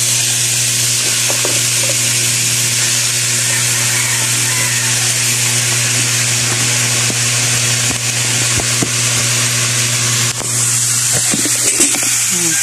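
Pork frying in cooking oil in a pan for adobong baboy, a steady, loud, continuous sizzle with occasional stirring clatter, no voices.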